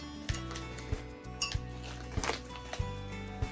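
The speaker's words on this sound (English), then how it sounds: "I'm gonna go ahead and give this a nice mix." A spoon scrapes and clinks against a bowl while mozzarella cheese mixture is stirred, repeated low knocks and light clatters in an uneven rhythm, close and fairly quiet, with no talking.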